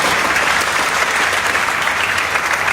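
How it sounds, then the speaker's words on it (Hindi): Sustained, loud applause from an audience at a motivational event for girls honoring a young woman selected for the Haryana Police, dense steady clapping with no talk. "जोरदार तालियां बजाएं"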